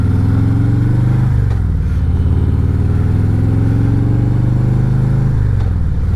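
A Harley-Davidson Road Glide motorcycle in first gear pulls up a small hillside. Its loud, close V-twin engine drones steadily, with the pitch shifting as it labours and shifts load, and no voices over it.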